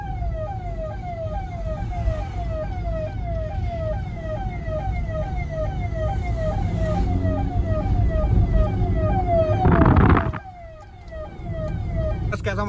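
Aftermarket hooter siren fitted to a Swift car, sounding loud and close: rapid repeating descending wails in a steady pulsing rhythm over engine rumble, cut by a sharp burst before a brief drop.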